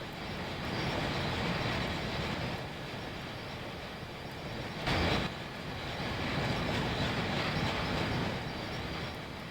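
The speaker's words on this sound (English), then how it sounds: "It's a train." A northbound freight train rolls past on a simulated railway, a steady loud rumble of wheels and cars that swells briefly midway and continues throughout.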